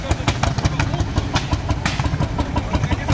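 A homemade vehicle powered by a German single-cylinder diesel engine runs close by with a fast, steady chugging pulse and rattly mechanical knocks, with voices faintly underneath.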